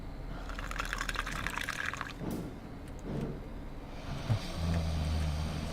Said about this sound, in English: Pour this.